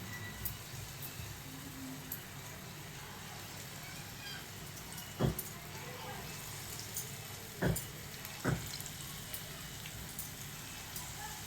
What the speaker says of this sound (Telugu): స్టవ్ మీడియంలో ఉంచుకొని ఈ పునుగులు అయితే వేసుకుందాం మనం.